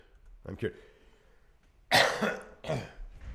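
A couple of short, husky coughs, followed after a pause by a louder burst of rough coughing, close to the listener.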